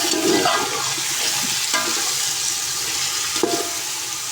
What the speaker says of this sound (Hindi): और अब देखिए, इसको अच्छे तरीके से मिक्स करेंगे।